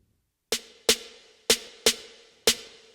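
Accent snare hits from an Afro House mix in Ableton, heard solo: five sharp, crisp strikes in an uneven rhythm, each with a short bright decay and a faint tonal body.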